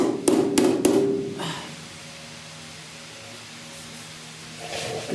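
A hammer strikes sheet metal on the cowl of a 1969 Chevy C10 truck with a dolly behind it, three or four sharp close ringing blows at the start, then a quiet shop hum.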